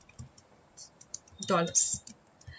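Scattered keystrokes on a computer keyboard, light and close, with a short burst of clatter midway as an amount gets typed in. A voice is heard briefly.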